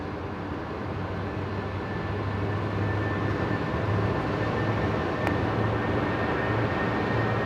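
Jet airliner taking off at Brisbane Airport at night, a steady, broad engine roar at moderate distance with a low rumble underneath, gradually building in strength and holding alone without talk.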